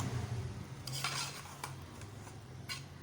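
A spoon stirs crushed cardamom into mutanjan rice in a pot, giving soft scraping and a few light clinks against the metal, close and fairly quiet over a faint sizzle.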